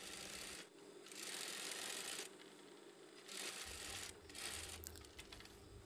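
A sewing machine stitches the back seam of a pair of underwear shorts in steady whirring runs of a second or more, separated by brief pauses, close and clear with no voices.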